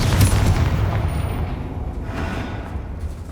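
Fiery Confringo spell blast in Hogwarts Legacy, a heavy booming burst that rolls into a sustained low rumble, loud and close with no talking.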